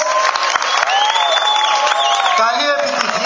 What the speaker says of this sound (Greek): να σηκωθείτε όλοι και να χειροκροτήσετε τους αθλητές